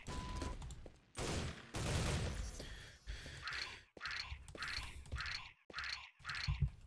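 Grenade blasts from the DeFRaG game crack out in a quick series of sharp, loud bursts with short gaps between them, and faint voices are heard.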